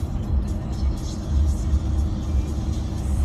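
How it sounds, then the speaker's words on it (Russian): A car drives through city traffic and overtakes other cars, heard from inside as a steady low engine and road rumble, with someone speaking faintly over it. "Вот вы видите, еду, даже обгоняю машины."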